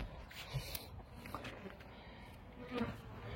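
Bees buzzing around a hive frame during a first spring colony inspection, a faint, continuous hum with occasional louder passes close by, a voice speaking quietly underneath.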